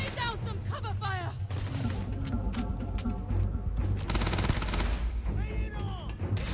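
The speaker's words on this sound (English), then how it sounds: "Lay down some cover fire!" Sustained bursts of gunfire from a Starfield firefight pile up across the whole stretch, loud and continuous, with shouting voices cutting in over the shots.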